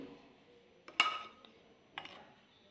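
Sablé cookie dough with vanilla mixed in a bowl, heard as a couple of sharp utensil clinks against the bowl with soft scraping between them, close and quiet in an otherwise still room.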